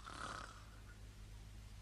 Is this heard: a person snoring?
yes